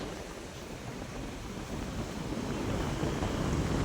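Sea waves roll onto a shore in a continuous low rumbling wash, mixed with wind buffeting the microphone and slowly growing louder.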